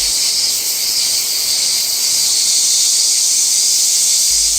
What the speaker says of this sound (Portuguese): Começou a algazarra, a sinfonia das cigarras